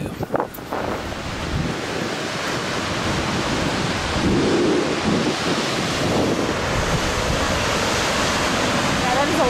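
Broad, steady roar of the Ohun waterfall in Mongolia, a large falls, with wind buffeting the microphone, loud and continuous throughout without any talk.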